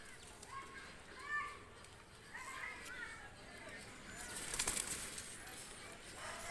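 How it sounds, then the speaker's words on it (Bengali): A pair of high-flyer pigeons, Pakistani and Omani breeds, released by hand, with a brief burst of wing flapping partway through, mostly under ongoing speech and light background chatter. "দুটা কবুতর আমি ছেড়ে দেখাচ্ছি দেখেন"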